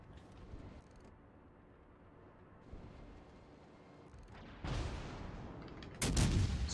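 Naval guns fire in World of Warships Legends, distant booming rumbles building into two loud close blasts near the end, with a low engine and sea drone underneath and no talk.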